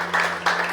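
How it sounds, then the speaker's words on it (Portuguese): Church audience applauding brothers as they step down from performing, a short burst of dense clapping in two swelling waves over a steady electrical hum. "Vamos aplaudir os irmãos para descer."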